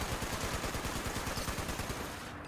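Rapid automatic gunfire in the video game Fallout 76, a loud continuous burst of fast shots that tails off slightly near the end.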